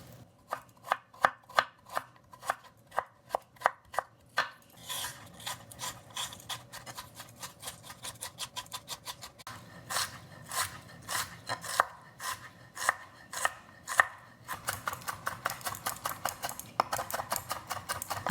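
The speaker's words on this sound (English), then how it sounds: "let's go in and chop it up really finely." A knife finely chopping fresh ginger on a cutting board for Hainan chicken rice: quick, crisp, evenly spaced taps that run steadily and close up, later speeding into denser bursts, with no talking.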